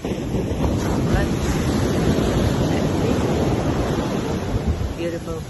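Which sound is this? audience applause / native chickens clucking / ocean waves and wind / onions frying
ocean waves and wind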